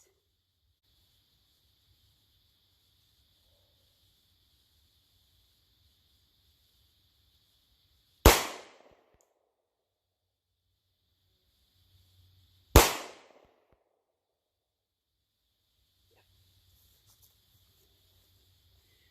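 Two loud, isolated shots crack from a Sig Sauer P365XL pistol with a Wilson Combat grip module, spaced several seconds apart, each decaying quickly against a quiet outdoor background with faint insects.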